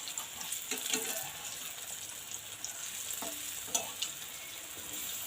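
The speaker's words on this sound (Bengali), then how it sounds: "এভাবে কিন্তু এক পাশটা দেখা লাগবে, যখন কালার হচ্ছে উল্টি দিয়ে এই পাশটাও কিন্তু লাল করে ভাজি নেওয়া লাগবে।" Balls of yam (ol) kofta fry in oil with a soft, continuous crackling sizzle, punctuated by a few light clicks and taps as they are turned; fairly quiet and close, no speech.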